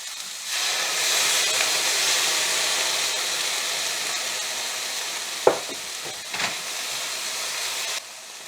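Soy sauce hitting a hot pan of chicken stir fry with broccoli, a loud steady hiss and sizzle that runs evenly for several seconds, broken by a couple of sharp clatters of stirring before it cuts off.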